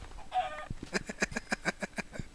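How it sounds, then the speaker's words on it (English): Video game chickens clucking in a quick series of sharp, close, rhythmic clucks, preceded by a brief higher squawk, loud and alone with no talk over them. "Oh, I love killing the chickens."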